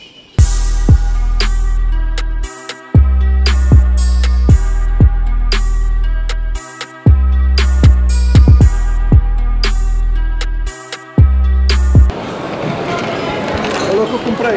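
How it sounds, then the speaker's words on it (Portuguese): Loud mechanical clattering from textile weaving looms in rapid rhythmic bursts with brief pauses, like shuttles moving, then giving way to a softer noisy hiss at the end. "Isto aqui é o barulho da roupa a ser feita"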